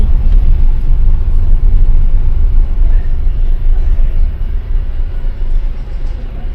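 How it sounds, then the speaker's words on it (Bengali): A car crawls through a traffic jam on a hill road in Kalimpong, heading toward Deolo Hill, with a loud, steady low engine and road rumble heard from inside the car. "দেখো এখানটা কিরকম জ্যাম হয়।"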